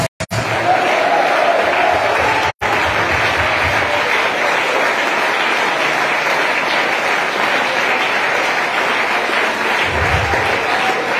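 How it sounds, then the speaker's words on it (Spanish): A church congregation claps together in sustained, dense applause for several seconds, loud and close, with the crowd murmuring and a brief cheer underneath. "Alguien que lo aplauda, alguien que lo celebre"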